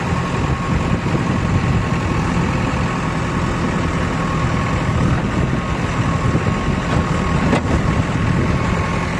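A heavy diesel JCB excavator engine idles steadily at close range on farmland, a continuous low rumble with a faint mechanical whine and one brief clank near the end.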